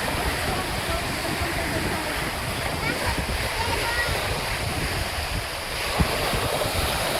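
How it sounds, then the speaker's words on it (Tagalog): Water waves surging and splashing outdoors, a continuous loud rushing wash with wind buffeting the microphone and a brief splash near the end. "Ang tubig oh."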